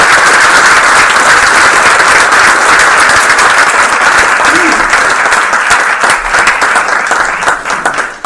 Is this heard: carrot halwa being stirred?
no